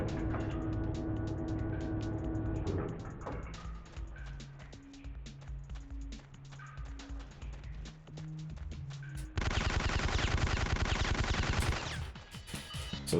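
Gunfire from shooting guards in the video game Syphon Filter, with sharp shots and bursts scattered among game music and ambience, including a dense loud stretch near the end.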